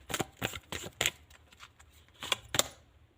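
Tarot cards shuffled and handled close by, a run of crisp papery riffles and flicks in uneven bursts with short quiet gaps between them and no voice.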